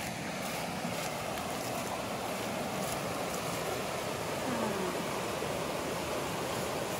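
A decent-sized river near a Bordeaux chateau rushes steadily, a constant broad wash of flowing water with no pauses.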